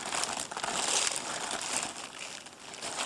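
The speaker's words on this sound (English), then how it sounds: "so that you didn't have to hear all the paper rattling" Paper wrapping rattles and crinkles steadily at close range while shoes are unwrapped, a continuous dense crumpling with no voices over it.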